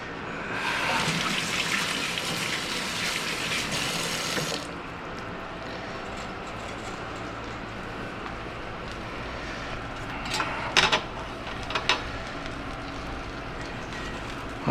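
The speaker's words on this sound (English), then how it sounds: "I'm gonna wash my hands." A kitchen tap runs as hands are washed beneath it, a steady broad rush of water for the first few seconds before it drops to a quieter room background with a few faint clicks and knocks.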